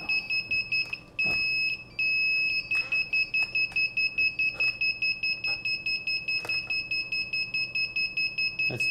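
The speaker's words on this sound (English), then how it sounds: "Everything's just beeping." DJI Digital FPV controller beeping in a fast, continuous pulsing pattern, loud and close, a rapid regular train of tones lasting the whole stretch with one short pause early.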